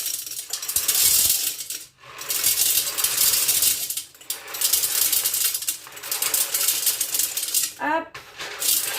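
A kitchen appliance grinds grain into flour with a loud, harsh, steady roar, broken by brief dips and a couple of short clatters.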